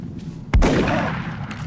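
A single sharp shot fires in the XCOM: Art of War tactical game, a loud close crack at once followed by a sustained rumbling, crackling tail.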